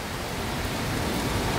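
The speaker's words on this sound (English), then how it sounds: "It is raining?" Rain falls in a dense, steady rush, an even broadband hiss with no gaps, heard alone without voices.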